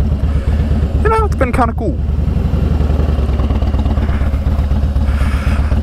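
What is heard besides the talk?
2017 motorcycle engine while riding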